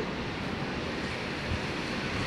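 Muddy sea waves churning against a rocky shore at İnebolu, Kastamonu, after a flood washed logs toward the sea; a steady, broad roar of surf and wind noise, fairly close, with no voices.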